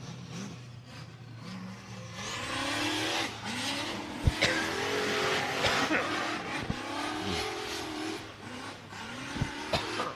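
A turbocharged center-seat buggy races on a dirt track, its engine revving and fading at a distance with tire noise and occasional bangs, under faint crowd and announcer chatter.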